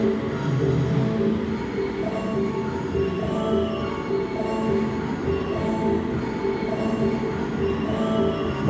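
The Gajayana passenger train from Malang rolls past in a continuous heavy rumble, with wheel squeal and metallic ringing layered over the clatter, and no voices.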